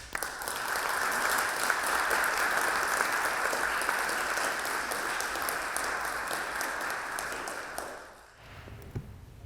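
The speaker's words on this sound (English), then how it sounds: "Round of applause." Sustained audience applause at an Oxford Union panel discussion on mental health, a dense steady roar of many hands lasting about eight seconds before cutting off abruptly into near silence.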